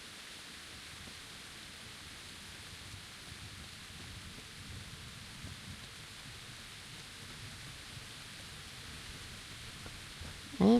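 Thunderstorm in the video game Kingdom Come: Deliverance: a steady wash of heavy rain hisses evenly throughout, with a muffled rumble of thunder underneath and no clear talking.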